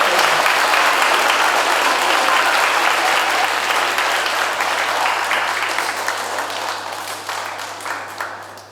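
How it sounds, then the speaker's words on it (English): A poetry finals audience applauds a competitor onto the stage, a dense, sustained round of clapping that stays strong before gradually tapering off toward the end. "So if we can give him a clap onto the stage."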